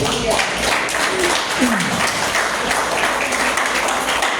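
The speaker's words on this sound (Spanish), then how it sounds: "¿Cuánto un aplauso a Jesús por eso?" A church congregation claps and cheers in praise of Jesus, a continuous, fairly loud wash of applause with voices calling out mixed in throughout.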